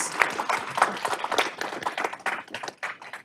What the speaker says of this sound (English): Could we get a brief round of applause for our esteemed panelists?